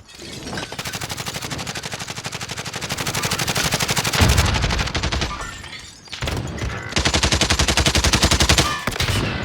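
Sustained automatic gunfire from Call of Duty Warzone, rapid rhythmic bursts of shots filling most of the stretch with a brief pause and a heavier impact midway, loud and close.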